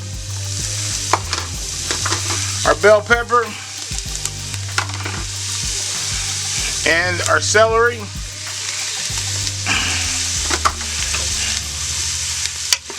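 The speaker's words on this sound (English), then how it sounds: "And you can hear that sizzle a little bit." Chopped onion, bell pepper and celery sizzle and are stirred in a pressure cooker on sear mode, a steady frying hiss with scraping stir sounds, while a person talks over it.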